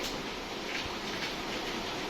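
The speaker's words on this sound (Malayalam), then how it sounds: "നമ്മളെ കടു പൊട്ടി" Mustard seeds splutter in hot oil in a home kitchen, a continuous bright crackling fry with a few sharper pops, steady and close.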